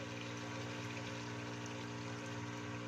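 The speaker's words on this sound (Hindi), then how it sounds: "तो हम इसमें थोड़ा सा पानी डालेंगे" Water is poured into a pot of Punjabi-style aloo gosht as it cooks, a steady, faint gushing stream under a low, even hum with no speech.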